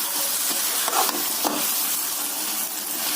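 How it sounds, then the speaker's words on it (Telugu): Chicken sizzling in a pan with onions and garlic, a steady close frying hiss with a few soft stirring scrapes. "ఉల్లిపాయలు ఎల్లుల్లిపాయలు వేగిపోయి పక్కన పెట్టుకున్న చికెన్ వేపేసుకుందాం"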